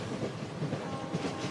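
Train rolling along rails with a steady low rumble and soft rhythmic clicking, continuous and close, with no voices.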